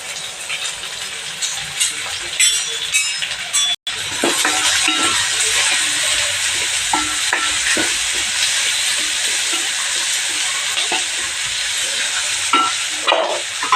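Onion, broken dried chilli and peanuts fry in oil in a home kitchen pan for a breakfast phodnichi poli, a continuous bright sizzle with steady hissing and occasional stirring scrapes throughout.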